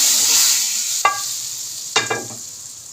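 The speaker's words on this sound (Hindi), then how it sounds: "अब मैं इसमें इस तड़के को ऐड करूँगी।" Hot tempering poured into masoor dal hits the pot with a sharp hiss, followed a second later by a second louder sizzling burst over a steady background hiss.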